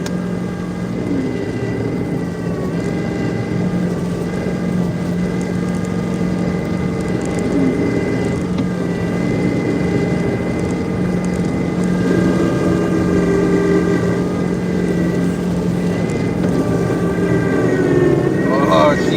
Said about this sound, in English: I don't know if you can hear them pumps whining, but this old girl getting a workout today